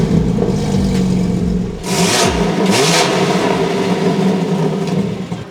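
A BMW engine revving with its exhaust valves closed, a steady engine drone broken by two sharp rising revs midway, loud and close, with no talk over it.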